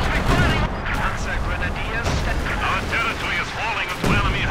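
Battle audio from the Company of Heroes 2 strategy game: repeated gunfire and heavy blasts in a dense, loud wash of combat noise, with a commentator talking over it.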